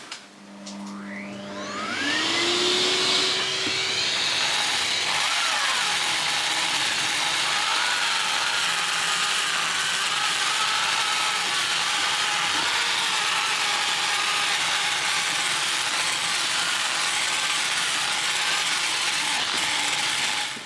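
An improvised vacuum extractor sucks dust up during a cottage fireplace renovation, a steady loud whooshing roar with a rising whine as it starts, running continuously throughout without speech.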